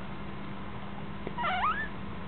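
Cold, wet young kittens, one giving a single short, thin meow that rises and falls, close by over faint low background noise.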